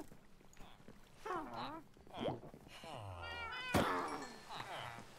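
Cats meow and caterwaul in a Minecraft raid, several drawn-out cries rising and falling over a few seconds under excited player talk and game noise.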